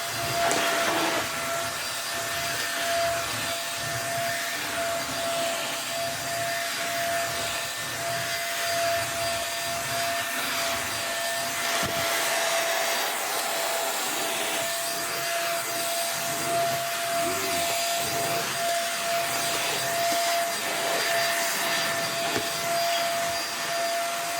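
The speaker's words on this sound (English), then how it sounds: "we can now vacuum with it and see how bad it is" A Beldray corded stick vacuum cleaner runs steadily with a constant high-pitched motor whine and airy rush, the tone shifting slightly as it moves across surfaces.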